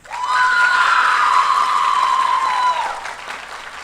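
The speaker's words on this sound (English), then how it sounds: "please join me in a round of applause for Miss Monica Burns." Audience applause at a high school senior awards night, a steady wash of clapping with a faint sustained tone behind it, holding level and then tapering off near the end.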